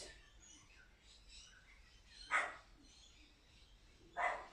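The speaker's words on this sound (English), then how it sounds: "the naughty little dog in the background is Elliot." Two sharp barks from a dog sound in the background at a moderate distance, well spaced, over a quiet room tone with faint bird chirps.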